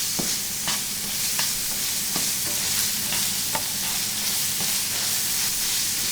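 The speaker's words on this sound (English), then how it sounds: "Stir them a little bit until like the onion gets like a little bit softer than it" Onions fry in a pan with a loud, continuous sizzle, broken by periodic clicks and scrapes as they are stirred, and nobody talks.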